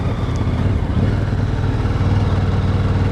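Dirt bike engine chugs steadily at close range with low, even pulsing and light mechanical clatter, with no distinct gear clunk standing out.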